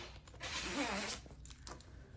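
A separating zipper on a knitted garment is pulled open in one quick, close ratcheting sweep, followed by faint rustling of fabric.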